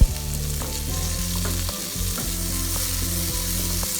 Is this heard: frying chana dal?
yes